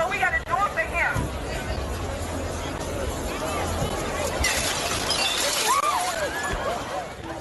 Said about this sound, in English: you can hear people yelling and what sounds like glass breaking